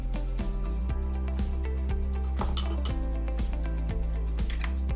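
A metal spoon scoops dry yeast granules and taps against a dish again and again. The sharp clinks come at an uneven rhythm and sound close and fairly loud.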